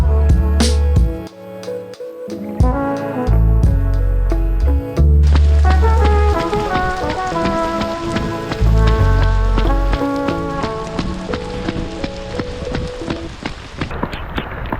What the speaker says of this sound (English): It's a complete downpour now.